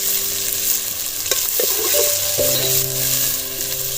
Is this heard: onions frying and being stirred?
yes